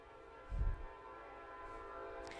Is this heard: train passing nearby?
yes